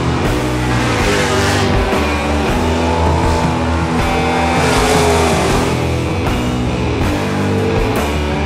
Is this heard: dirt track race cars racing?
yes